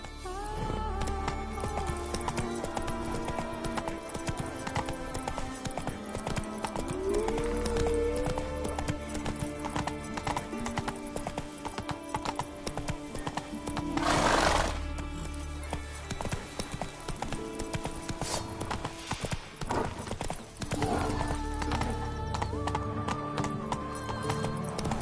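Roach the horse in the Witcher 3 video game gallops with a rapid, rhythmic clip-clop of hooves throughout, joined by a brief whinny and a sharp whooshing burst midway, with game sounds and faint talk underneath.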